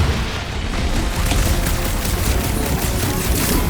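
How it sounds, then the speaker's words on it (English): Dense, sustained gunfire rattles against a big robot in a Guardians of the Galaxy fight, a loud, close, continuous barrage of rapid shots and booms with no break. "I've been shooting that big bot for hours!"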